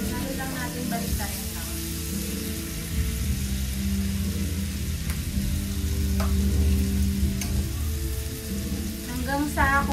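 Spicy lemon pork sizzles in a frying pan while being stirred, a steady close crackle and hiss with occasional scraping knocks, and a voice speaks faintly in the background.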